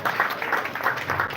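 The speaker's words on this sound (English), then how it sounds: "Clap, clap, clap, clap." Crowd applause after a tribute to a late father at a memorial gathering, steady and fairly loud, with irregular pulsing claps filling the brief moment.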